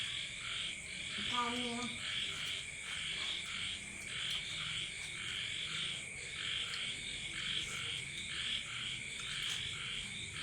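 Frogs croak and insects trill in a continuous night chorus, with a steady high-pitched buzz and a brief croaking burst early on, fairly faint and unbroken by talk.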